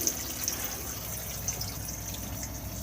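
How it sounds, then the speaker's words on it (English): Water runs steadily from a sink tap while a water pump hums beneath it, a continuous close hiss and whir with no speech. "turn the tap on"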